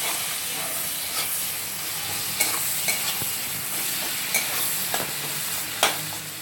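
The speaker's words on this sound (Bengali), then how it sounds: "পেঁয়াজটা একটু হালকা করে ভেজে নিতে হবে" Sliced onions frying in the leftover oil from fried eggs in a home kitchen, a constant loud sizzle with occasional sharp stirring clicks and scrapes, no talking.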